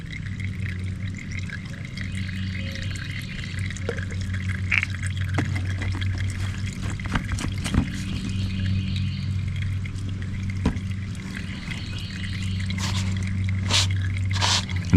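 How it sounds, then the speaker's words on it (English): Motor oil trickles and splashes as it is poured into the oil filter of a Honda Goldwing motorcycle, with wet squishing and drips that rise and fall for the full stretch, close up and with no talking. "I'm gonna pour some more oil over into the oil filter."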